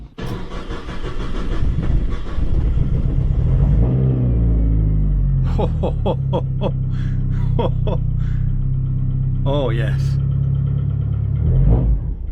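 Mitsubishi Evo 5 fitted with a Kakimoto GT1.0Z race exhaust revs loudly and close, a deep throbbing rumble with repeated throttle blips rising and falling, while a person gasps and speaks briefly over it.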